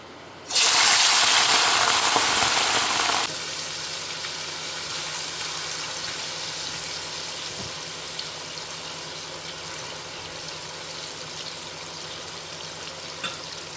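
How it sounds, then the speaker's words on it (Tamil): Prawns hit hot oil for a homemade pickle, opening with a loud, bright sizzling burst for a few seconds, then settling into a steady, quieter frying crackle and hiss, with no speech. "இப்போ இந்த ப்ரான்ஸ் எடுத்து இதில் ஆட் பண்ணிக்கலாம்."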